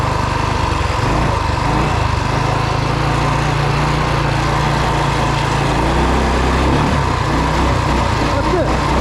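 Rokon 2WD motorbike fitted with a 223cc Wildcat engine running steadily, a loud, continuous engine drone with a low rumble throughout.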